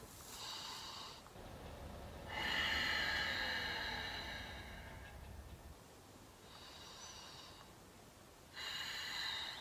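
Slow, deep inhalations and exhalations during a yoga sculpt session, heard close as four long, airy breaths spaced across the stretch, with no talking.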